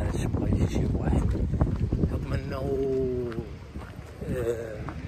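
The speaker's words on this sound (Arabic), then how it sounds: "كاين هنا الريح بزاف" Strong seaside wind buffets the microphone in loud, rough gusts, with a voice talking over the roar for much of the time.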